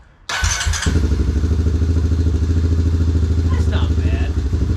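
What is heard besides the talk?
Yamaha Raptor 700R ATV engine cold start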